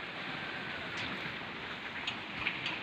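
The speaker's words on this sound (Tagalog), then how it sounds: "Medyo makulimlim siya ngayon, guys. Maambon-ambon pa." Light drizzle falls outdoors over a vegetable garden on an overcast day, a soft even hiss with a few faint ticks of drops, steady and quiet throughout.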